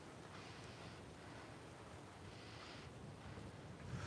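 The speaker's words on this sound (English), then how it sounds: "real windy again" Steady wind roars across the microphone with a low rumbling buffet, surging slightly toward the end; faint water noise underneath. Recorded outdoors on Cumberland Island, Georgia.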